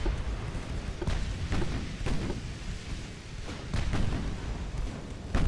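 Warship guns firing in the naval game Ultimate Admiral: Dreadnoughts, in a pre-dreadnought battle in the Adriatic in 1905. Heavy booming salvos roll one into the next over a constant low rumble, with no one talking.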